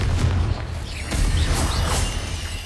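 Rumbling magical blasting spell explosions in a video game, dense low booms with bursting pops running continuously and fairly loud for the whole stretch.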